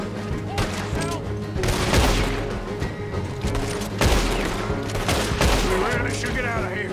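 Gunfire in the video game Red Dead Redemption 2, loud repeated shots and heavy bursts in a chaotic firefight, with voices shouting over the shooting.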